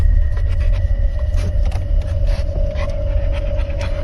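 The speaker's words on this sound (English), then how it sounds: "sounds like they have a dog near there" A dog pants steadily and close, with faint whimpers, inside a moving car whose engine rumble and road noise run underneath.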